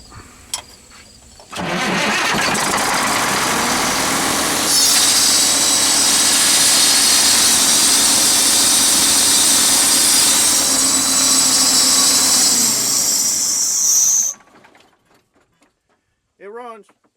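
An old Mack truck's diesel engine cranks and catches, then roars loudly and steadily for about twelve seconds with a high turbo whine before shutting off, followed by brief faint sounds.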